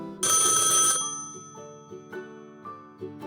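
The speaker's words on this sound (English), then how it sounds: "It's a telephone." A telephone bell rings loudly in one bright burst, then softer electronic chirps follow at uneven intervals.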